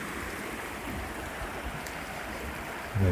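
River rapids flow through woodland below a waterfall, a steady, full rushing of water heard close and continuous, with a brief knock near the end.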